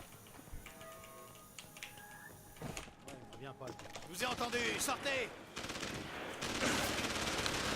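Gunfire crackles in Deus Ex: Human Revolution in scattered bursts and quick volleys, fairly quiet and mixed with other game sounds during a speedrun.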